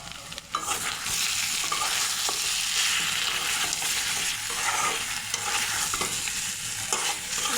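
Duck meat sizzles and is stirred in ground spice paste, a dense, loud frying hiss punctuated by repeated scraping strokes of a spatula against the pan, close and constant throughout.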